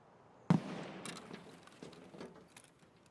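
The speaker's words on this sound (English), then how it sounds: "And now someone's shooting up at me at Dome" Gunfire in Escape from Tarkov: one sharp loud report followed by scattered fainter shots and crackles, distant and echoing, with no talk.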